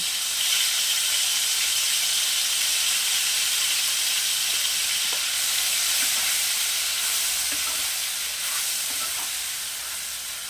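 Onion paste fries in hot oil for a Bengali aar fish curry with fenugreek, producing a continuous, even hiss and sizzle that fades slightly toward the end, with a few faint utensil taps.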